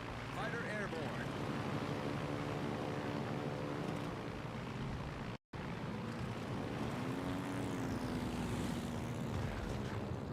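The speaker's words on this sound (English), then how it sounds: "Fighter airborne." A fighter plane roars steadily into the air in a video game, its engine drone rising and holding loud, broken by one abrupt dropout midway.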